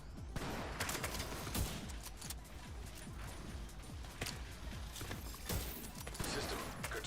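Sustained gunfire in the shooter game The Division 2, a quiet, distant stream of rapid shots with occasional louder cracks and ricochets, steady throughout with no voice over it.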